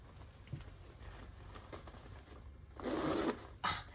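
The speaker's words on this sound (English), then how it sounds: "Zipper works like butter." A zipper on a Louis Vuitton Speedy 25 bag rasps open and shut up close, two short bursts of scratchy zipping with a brief pause between them, amid faint handling noise.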